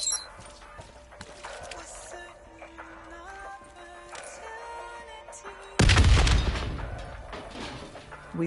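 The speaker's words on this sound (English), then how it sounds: "The explosion blocked our path." A loud explosion booms in the Black Ops 3 Nightmares game, a sudden close blast that cuts in partway through and decays into a long, rumbling tail after a stretch of quieter game ambience and tonal effects.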